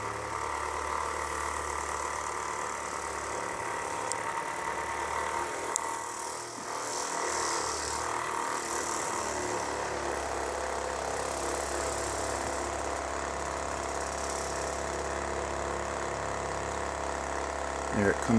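A demand delivery pump pushes sanitizer through a beer filter and tubing, giving off a faint, steady mechanical hum with a light rattle that runs evenly throughout.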